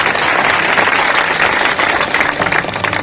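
Crowd applause at an outdoor election rally in Mandhata, dense and loud clapping that holds steady for about three seconds without any speech over it.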